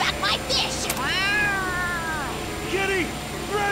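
Cats in Yakuza: Like A Dragon let out several drawn-out, wavering meows in quick succession, loud and close over a busy game background, with a voice briefly speaking near the start.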